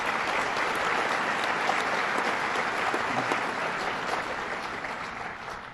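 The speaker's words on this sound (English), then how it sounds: "Give them another round of applause." Sustained applause from an audience at a state event in Staten Island, a dense, even wash of clapping that holds steady for several seconds before easing off slightly at the end.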